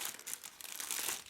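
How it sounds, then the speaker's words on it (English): Clear plastic bag crinkling as it is unwrapped from an ultrasonic cleaner's plastic cleaning basket, a quiet, close, continuous rustle with small crackles throughout. "So just removing that plastic bag and setting it to the side right there."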